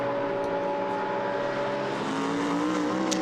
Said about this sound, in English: Bentley pounds past the McLaren that joins from the pit lane there